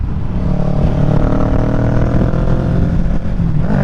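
A 2023 Kawasaki Ninja 650 motorcycle rides with its engine loud and close, a steady rough drone with slight shifts in pitch as it downshifts, no speech.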